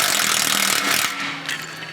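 A ratchet working on aluminum exhaust brackets, a steady loud rasping clatter that runs continuously and eases off slightly toward the end, with no talk.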